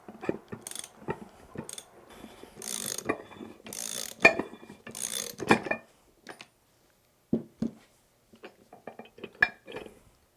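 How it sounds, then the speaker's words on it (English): A puller's center screw is turned to draw a side plate off a bearing on a tamper vibrator motor, giving bursts of close metallic ratcheting clicks and clinks separated by short pauses, with no speech. "Now turn the center screw to pull the side plate."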